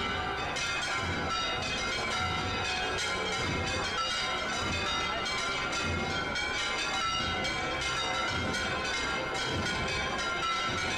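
Church bells peal continuously and loudly in Córdoba during a Palm Sunday triumphal-entry procession, their rapid overlapping strokes forming a dense, ringing wash with no talking.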